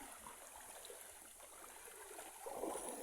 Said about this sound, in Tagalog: Nasa ilog kami ngayon.